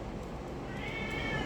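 A single close cat meow, short and rising in pitch, over a faint background.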